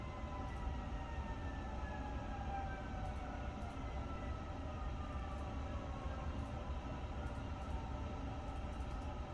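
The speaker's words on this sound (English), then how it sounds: "Sorry if you guys hear the sirens outside." Faint sirens wail in the distance, their sliding tones drifting slowly over a steady, dense background rumble, with no talking.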